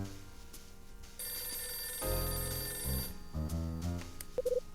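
Phone ringing in the video game Last Window, a steady electronic ring with layered tones, fairly loud and sustained for several seconds with no talking.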